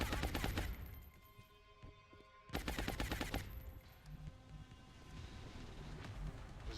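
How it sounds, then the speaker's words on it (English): Automatic weapons firing suppressing bursts in the strategy video game XCOM Long War: dense, loud rattling volleys that pause briefly around the two-second mark, then resume with continued bursts and rumbling echoes. "Suppressing fire."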